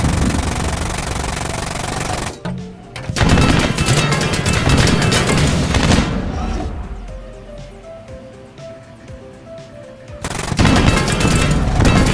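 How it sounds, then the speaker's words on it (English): Heavy machine gun fire from a tank in the War Thunder video game, loud rattling bursts at the start and again at the end, with a quieter stretch of engine rumble and tonal game sounds in between. "my machine gun can actually penetrate his thin armor"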